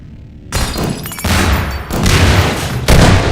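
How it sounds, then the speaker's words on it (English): Grenade blasts from an SMG launcher and shotgun blasts during a Half-Life 2 Deathmatch duel on the Lockdown map, arriving as a loud run of heavy booms and bursts with no talk over them. "Some nice SMG nades and the shotgun connects."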